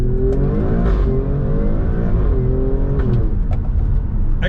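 A 2017 Alfa Romeo Stelvio Quadrifoglio with its 2.9-litre twin-turbo V6 accelerates hard from first gear, the engine note loud and close, climbing in pitch through one steady continuous pull.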